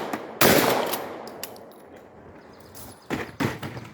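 A Lynx 12 AK semi-auto shotgun and a 20 gauge pump shotgun fired outdoors, loud sharp blasts: one big shot with a long decaying echo, a couple of faint pops, then a quick burst of several shots near the end.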